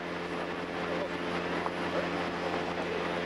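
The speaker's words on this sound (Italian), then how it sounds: "Adesso veniamo su con l'elicottero!" A steady, unbroken drone of a helicopter fills the whole stretch, holding an even level with a constant low hum beneath.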